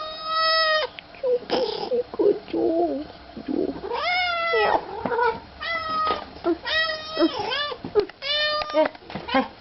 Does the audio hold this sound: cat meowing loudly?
yes